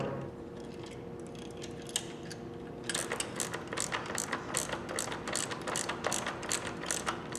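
A bolt is threaded onto a bicycle fender close to the microphone, making a quick run of small, dry metallic ticks and clicks like a ratchet that starts partway through and continues steadily.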